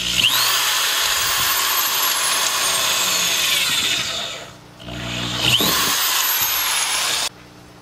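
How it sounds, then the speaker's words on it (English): A power drill bores a hole through a hydroponic system container for an air line, whining loudly and steadily, pausing briefly near the middle, then spinning up again before cutting off. "I'm going to drill one more hole through here for our airline."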